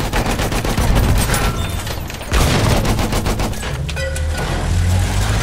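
Loud, dense machine gun fire in a Battlefield 1 Operations battle, with rapid bursts that run almost without a break and heavy distant rumbles underneath.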